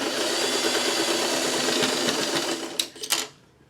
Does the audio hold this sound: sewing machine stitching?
yes